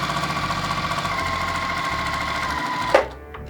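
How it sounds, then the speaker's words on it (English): A sewing machine stitches steadily along a marked line on pre-cut quilt fabric for a windmill quilt, a close, even motor whir with rhythmic needle chatter that stops abruptly near the end. "We need to sew directly onto that line to give us a little extra wiggle room for this whole thing to be assembled."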